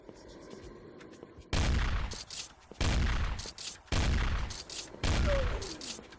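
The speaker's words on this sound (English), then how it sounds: "We'll try the shotgun first." A shotgun fires in the video game Dark Apes: The Fate of Devolution, with four loud, booming blasts spaced about a second apart over a faint game background.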